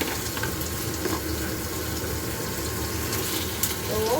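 Pointed gourd (potol) pieces frying in a pan, giving a steady, close hiss and crackle of hot oil throughout, with a few faint clinks and stirring sounds and no talking.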